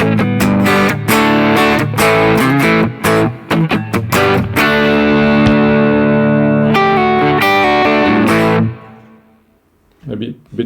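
Electric guitar played through Blue Cat Audio Axiom effects software, loud distorted chords and picked notes with reverb tails, stopping short and followed by a brief quiet pick at the end.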